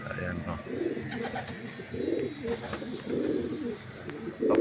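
Racing pigeons on a roof give soft, repeated throaty coos in rhythmic bursts, close by, with a voice talking faintly in between.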